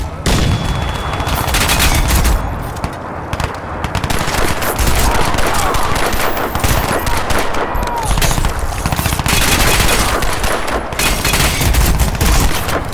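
Dense, loud automatic gunfire and explosive booms from the video game Crysis 2 Remastered, rattling continuously throughout with brief lulls, while a voice talks faintly underneath.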